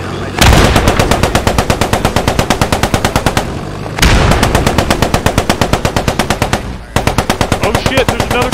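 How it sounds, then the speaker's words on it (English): Sustained machine gun fire in a WWII tank battle video game, loud rapid bursts with short pauses between them, close and continuous. "MG's ripping."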